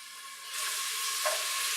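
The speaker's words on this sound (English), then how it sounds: "kind of looking for that sizzle. You can hear that going right now." Chicken sizzling in hot olive oil in a pot, a steady close crackling hiss that swells midway, no speech.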